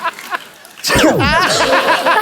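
A theatrical sneeze performed on request on a comedy talk show stage, arriving as one sudden loud burst after quiet murmuring, with laughter and chatter continuing right after.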